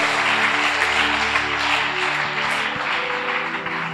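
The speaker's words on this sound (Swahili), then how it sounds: "Makofi kwa Yesu" A church congregation applauds for Jesus during a service, a sustained dense wash of clapping close by with a low hum of music underneath that slowly thins out.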